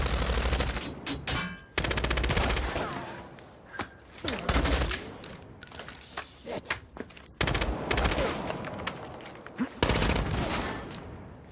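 Rapid bursts of automatic gunfire from the stealth shooter Splinter Cell: Chaos Theory, loud and close, firing in long rattling volleys broken by short pauses, with no talking.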